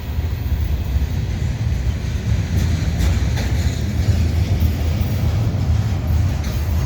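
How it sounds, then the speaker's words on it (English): A CN freight train hauled by two SD70M-2 diesel locomotives rolls by at Argenson Park with a deep, continuous engine rumble and rolling rail noise, loud and near. "Just following a westbound train that was headed by the switchers."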